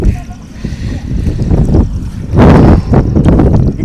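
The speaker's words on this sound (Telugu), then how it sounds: "గాలి అయితే విపరీతంగా వేస్తుందండి." Strong wind gusts across a hilltop night campsite in Odisha, buffeting loudly in uneven surges. The roar rises sharply in a burst past the halfway mark and stays heavy to the end.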